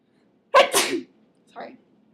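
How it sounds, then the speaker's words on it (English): A single sharp, close sneeze bursts out, followed a moment later by a softer short exhale or sniff, then quiet. "I don't mean to sneeze during the videos"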